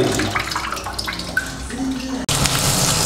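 Cooked pasta is rinsed under a running kitchen tap, giving a steady, close splashing rush of water that continues throughout with a brief break near the end.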